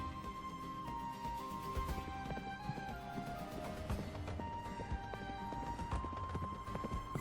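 Hooves of a large horse clip-clopping, heard as a faint, uneven run of knocks under a layer of tonal background sound with no speech.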